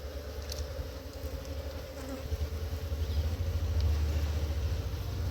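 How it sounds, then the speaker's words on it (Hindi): Honey bees buzz in a dense, continuous drone as combs are shifted into a framed hive box, a steady swarm sound with a low rumble beneath and no speech. "छत्ते और मधुमक्खियाँ निकाल करके हम लोग जो है विजय जी उनको निकाल करके फ्रेम वाले हनी बॉक्स के अंदर डाल रहे हैं।"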